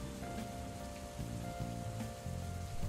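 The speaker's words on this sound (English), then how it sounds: "the rain beat in the background really adds to it" Steady rain patter washes through a mellow, chill looping song, sitting as a soft, constant hiss beneath repeating melodic notes.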